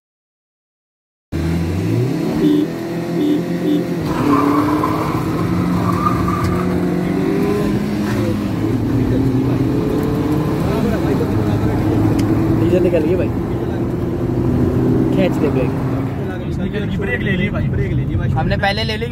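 Old and new Maruti Swift cars, one diesel and one petrol, drag racing: loud, sustained engine roar and revving that builds and holds for most of the run, with voices talking over it.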